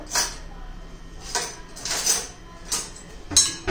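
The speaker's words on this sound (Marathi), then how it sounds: "छान असं दही मी काढून घेतलेलं आहे. ते आपण आता फेटून घेणार आहोत." Curd (yogurt) is whisked in a bowl for dahi tadka, giving repeated scraping, clinking strokes that come in uneven bursts, close and moderately loud.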